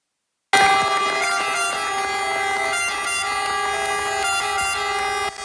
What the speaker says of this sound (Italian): Le sirene dei Vigili del Fuoco hanno accompagnato l'uscita del feretro dalla cattedrale di Caltanissetta.